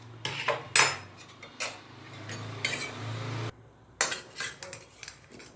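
Cauliflower roast being poured onto a plate, with a series of metallic spoon scrapes and clinks against a pan and dish, irregular and close, separated by brief pauses.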